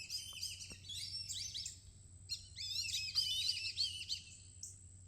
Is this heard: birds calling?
yes